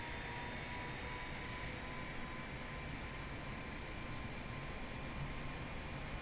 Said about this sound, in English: Alright, so there's engine 2 coming up.